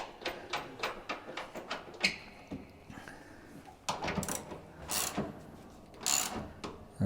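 A ratchet spanner tightens bolts on the legs of a Steinway model O grand piano, giving quick runs of close, crisp clicking mixed with metallic clunks and handling knocks.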